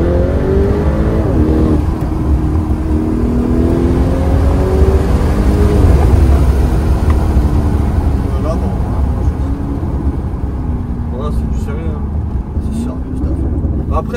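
A 745-horsepower Lamborghini Urus Mansory engine drones and revs from inside the cabin, loud and continuous with rising and falling pitch sweeps, while people talk over it throughout.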